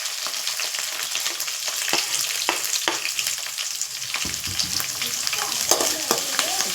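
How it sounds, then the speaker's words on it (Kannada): Onion and curry leaves frying in hot oil, a loud continuous sizzle and crackle with occasional stirring scrapes in the pan. "ಸ್ವಲ್ಪ ಫ್ರೈ ಮಾಡ್ತೀನಿ"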